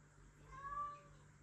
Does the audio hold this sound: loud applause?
no